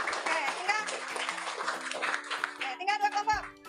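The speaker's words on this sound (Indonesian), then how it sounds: "kita beri tepuk tangan lagi" A grade 6 primary school classroom breaks into applause. Children's claps pile up in a dense patter over several seconds, mixed with chatter and a teacher's voice.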